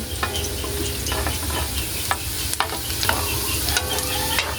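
Garlic stirred in a hot pan for dinuguan, a steady sizzle of frying with repeated scraping strokes of a utensil against the pan, close and continuous without talk.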